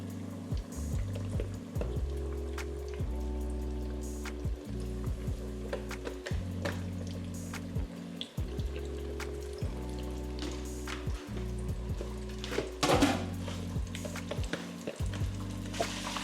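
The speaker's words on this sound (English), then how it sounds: "Just go and put the fish in there and get the frying." Hot oil bubbles and crackles steadily with double-battered catfish frying in it, a continuous sizzle carrying low, stepped hums and a few clicks.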